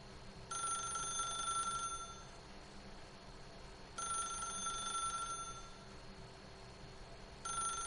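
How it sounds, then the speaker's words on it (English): A telephone rings in the video game The Stanley Parable, sounding two full rings with a gap between them and the start of a third, clear and steady over a low background hum. "If you can truly place your faith in another, then pick up the phone."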